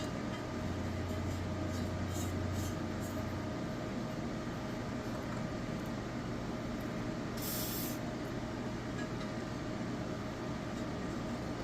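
A can of lubricant sprays onto stiff intake bolts on a Thunderbird during an intake change, giving a steady hiss under constant loud background noise, with one brief stronger burst near the end.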